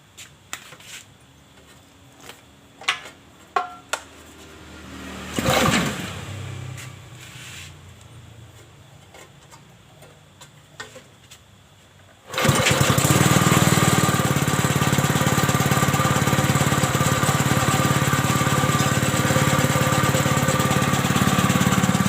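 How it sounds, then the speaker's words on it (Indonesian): An air compressor with an air leak out of its oil hole kicks on abruptly after a stretch of quiet clicks and handling, then runs loud and steady with a dense, continuous mechanical roar and no talk over it. "udah terpasang, tinggal kita tes kompresornya"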